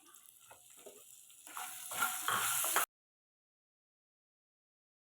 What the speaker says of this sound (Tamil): இதோட சின்ன வெங்காயத்தையும் சேர்த்துக்கலாங்க